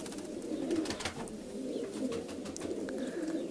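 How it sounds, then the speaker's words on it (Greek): Katsagogas grey pigeons coo in soft, repeated low calls among a flock, with scattered wing flutters and shuffling close by and no voices. "αυτά τα πουλιά, για τα σταχτιά του Κατσαγόγου του Δράκου"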